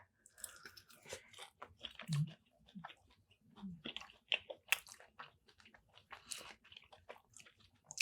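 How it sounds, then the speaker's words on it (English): Crunchy chicken wings coated in sauce are bitten and chewed up close, with a string of sharp crisp crunches and softer wet chewing sounds repeating irregularly, with no talk. "they have a nice little crunch to them"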